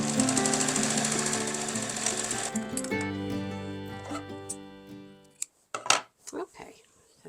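Sewing machine stitching a fabric tie in half, a fast steady mechanical chatter that runs for a few seconds, then stops and gives way to light handling clicks and rustles.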